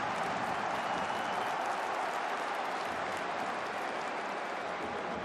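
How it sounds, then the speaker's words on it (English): A stadium crowd at a German third-division football match between Dynamo Dresden and 1860 München claps and applauds in a dense, continuous wash of sound lasting several seconds, with no clear voices over it. "It's a round of applause and a pass on the back."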